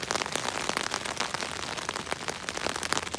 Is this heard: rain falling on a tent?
yes